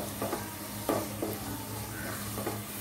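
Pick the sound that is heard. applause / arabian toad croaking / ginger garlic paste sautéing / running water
ginger garlic paste sautéing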